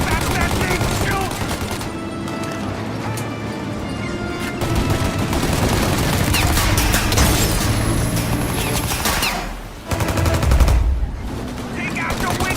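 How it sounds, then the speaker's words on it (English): Sustained gunfire from the video game Mafia: Definitive Edition, loud and dense with rapid machine-gun bursts and overlapping shots, briefly dropping out before resuming, with voices shouting underneath. "Shoot the gun! Shoot now while we got the chance!"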